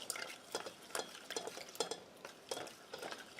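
Melted beeswax and olive oil are stirred in a pot, giving a steady run of soft scraping and clinking strokes at close range with no voices.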